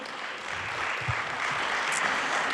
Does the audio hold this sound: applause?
yes